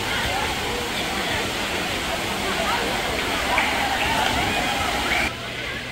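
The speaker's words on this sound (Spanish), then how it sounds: "esta es como una presa, y es donde nace el agua" Water rushing and splashing at a spring-fed dam pool in a Salvadoran recreation park, a loud, steady torrent throughout, with people talking over it.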